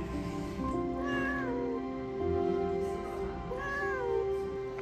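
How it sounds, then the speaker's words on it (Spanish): A cat meows twice, about three seconds apart, each a short rising-falling call over a steady low indoor hum. "Madre mía, este gato es buenísimo."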